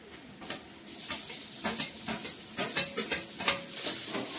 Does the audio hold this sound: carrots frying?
yes